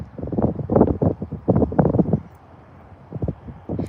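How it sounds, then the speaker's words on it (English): Gusty wind buffets the microphone in rough bursts, rising and falling, with a calmer stretch before another gust. "other than all this wind"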